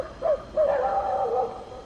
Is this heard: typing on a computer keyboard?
no